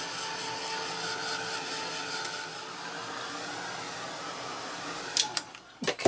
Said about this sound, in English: I'm going to grab my heat gun and try and dry them off without buckling my table